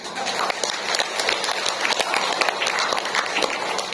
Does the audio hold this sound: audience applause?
yes